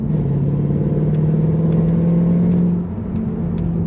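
Steady low drone of a Mercedes W204 C63 AMG engine cruising in fourth gear at 2000 revs and 40 mph, a constant hum with road rumble underneath.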